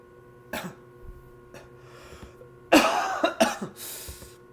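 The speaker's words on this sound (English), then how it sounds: "Sorry, coughing fits all the time." Several harsh coughs in a fit, a brief one early then a loud cluster of bursts near the end, close to the microphone over a quiet room hum.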